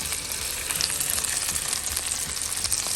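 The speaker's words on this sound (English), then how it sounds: "Getting some good pop on my grease, so I'm going skin side down." Cornish hen pieces fry skin side down in hot popping grease, a dense steady sizzle with constant crackle and pops, close and alone without voices.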